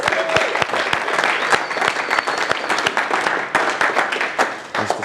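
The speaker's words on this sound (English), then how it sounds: "A round of applause for" An audience gives a round of applause for a volunteer at a talk, a dense, loud, sustained clapping that stays steady throughout.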